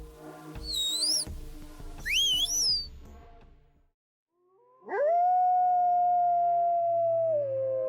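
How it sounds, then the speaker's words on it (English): A wolf gives two rising, wavering howls in quick succession, then after a pause a single long, steady howl, clear and fairly close, at night. "That haunting howl echoing through the silent night is not just a sound."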